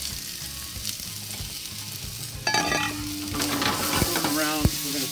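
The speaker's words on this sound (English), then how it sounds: "We're going to saute them" Onions hitting hot olive oil in a saute pan over medium-high heat, a quiet stir first, then a sudden sizzle and crackle that builds and keeps frying steadily, close by.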